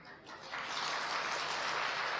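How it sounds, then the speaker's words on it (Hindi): An audience claps together at a spiritual talk by BK Shivani, building from a scattered start into steady, dense applause that fills the hall. "अब डिसाइड करके ताली बजा सकते हैं।"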